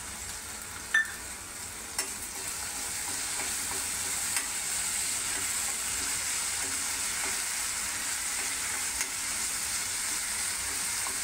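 Onion fries in a little oil in a pan, giving a continuous even sizzle at moderate level with a few faint clicks near the start.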